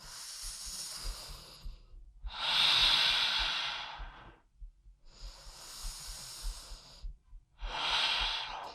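Slow, deep breaths during a head-to-toe mobility flow, four long airy inhales and exhales alternating evenly with short silent pauses, close and breathy with no speech.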